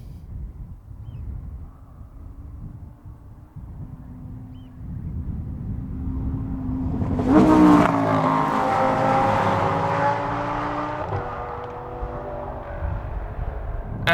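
An Alfa Romeo Giulia Quadrifoglio drives past, its engine rising from a low steady hum to a loud, full roar around the midpoint, then holding a strong drone as it continues on.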